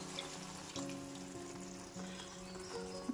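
Masala sizzling in ghee with water being added, mushroom ghee roast in progress; a steady close frying hiss runs throughout with a few soft stirring knocks and bubbling pops.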